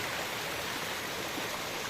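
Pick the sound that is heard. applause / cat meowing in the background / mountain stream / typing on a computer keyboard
mountain stream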